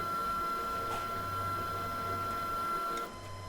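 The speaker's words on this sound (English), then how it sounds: "Just hit feed. See that it'll start feeding through the machine." xTool MetalFab welder feeding wire through the machine toward the gun: a steady mechanical motor whir with a constant whine, close and continuous, cutting off abruptly near the end.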